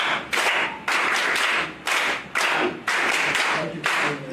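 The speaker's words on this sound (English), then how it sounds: "Let's give Air Commodore Professor Isaac Odunayo 2 rounds of applause." An audience at an alumni association annual general meeting gives rounds of applause for Air Commodore Professor Isaac Odunayo, loud dense clapping in several bursts separated by short pauses.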